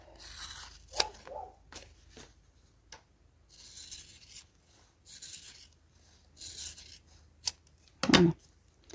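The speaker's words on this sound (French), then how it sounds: "Et je vais couper ma bande." Scissors cut a strip of thick faux leather, heard as close, crisp snips and rasping slides in short bursts separated by pauses, with one louder crunch near the end.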